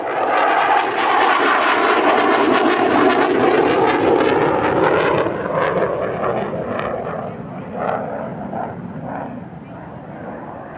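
JF-17 fighter jet passing at an airshow, a loud sustained engine roar that slowly shifts in pitch and fades a little, with a voice talking over it.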